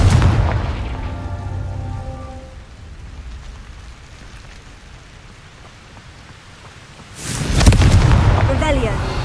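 Confringo blasting curse explosions in Hogwarts Legacy, a loud fiery burst opening the moment and decaying into a low rumbling tail, then a second heavy blast near the end with crackling debris, in a game scene.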